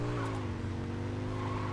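A car in Saints Row drives with a steady engine drone and a rough, squealing skid texture. The sound is close and continuous through the short stretch, with no talk.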